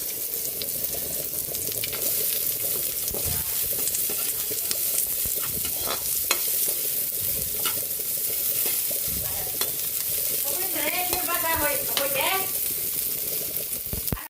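Garlic and onion sauté in a pan with a steady, loud sizzle, punctuated by scraping stirs of a utensil against the pan; a voice briefly speaks over the frying near the end.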